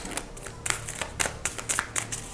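Repeated bursts of tarot card shuffling, a series of crisp riffles and taps coming close together at an irregular pace, with no voices.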